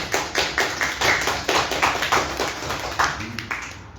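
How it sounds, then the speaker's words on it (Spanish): A small audience at a book presentation during Fóbica Fest in Guadalajara gives brief, sparse applause, a few hands clapping at a close, steady rhythm for a few seconds with no talking over it. "Un aplauso a ella, por favor."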